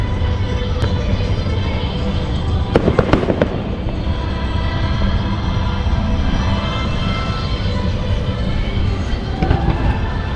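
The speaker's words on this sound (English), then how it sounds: "pretty cool seeing what the fireworks looks like in the new GoPro" Fireworks burst over Epcot during the Food & Wine Festival, captured on a GoPro: a constant rumbling crackle of distant explosions with a cluster of sharper pops near the start, steady and loud throughout.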